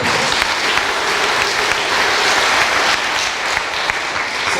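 A church congregation at a patronal feast in Thiès applauds a choir and brass band, producing dense, even clapping that holds steady and fairly loud throughout.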